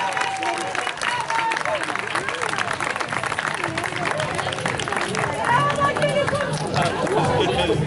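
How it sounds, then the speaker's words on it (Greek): A crowd applauds at a Rhodes Throwdown 2016 awards ceremony, dense sustained clapping mixed with cheering and chatter throughout, loud and close with voices in the mix. "Ένα πολύ δυνατό χειροκρότημα για τα παιδιά."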